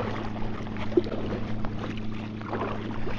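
A motorboat's low, steady engine drone passes close by a packraft on open water, mixed with faint wind and water noise; no one speaks.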